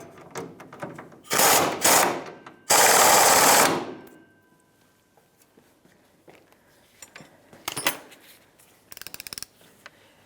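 An 18mm socket on a ratchet snugs the top rear shock bolt on a 1992-1996 Ford F-150. Bursts of rapid ratcheting clicks come and go, with a few faint metallic taps and quiet gaps between them.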